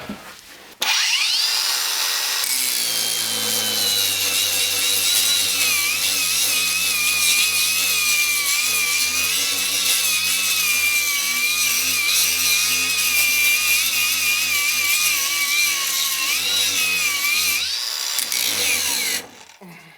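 A Ronix cordless angle grinder spins up and cuts into metal with a loud, steady high-pitched whine and grinding rasp for most of the stretch, then winds down at the end.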